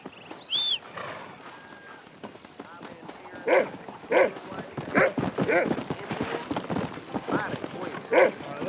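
Horse hooves clip-clop in Red Dead Redemption, played on PC, in steady repeated beats. Voices talk over them, and short barking-like bursts punctuate the scene.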